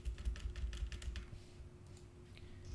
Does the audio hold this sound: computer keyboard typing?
yes